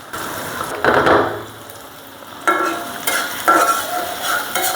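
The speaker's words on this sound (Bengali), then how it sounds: "এই রসুনটা আমি লাল লাল করে এখন ভেজে নেব।" Chopped garlic fries in plenty of oil as a spatula stirs and scrapes the pan, with bursts of scraping over a soft steady sizzle and no speech.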